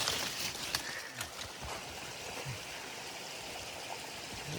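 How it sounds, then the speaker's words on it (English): A snowmelt-fed stream runs down a steep mountain hollow high above the Virginia Creeper Trail, giving a steady, full rushing wash of water that fills the whole clip with no speech. "Water's running good, but I guess from all the snow melt off."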